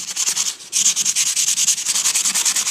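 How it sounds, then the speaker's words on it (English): A craft sanding block rubbed back and forth over a tile background, steady rhythmic scratchy strokes, close and alone, with a brief pause partway through. "I happen to have a craft sanding block, but you can use, you know, sanding paper"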